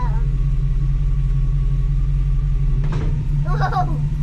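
A Ford Model A street rod's engine runs with a steady low rumbling idle close by, and a brief voice is heard near the end.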